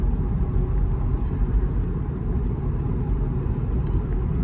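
Car engine running on LPG and struggling past about 1100-1200 rpm, a continuous dense low rumble with road noise, steady and fairly loud throughout with no clear rise in revs.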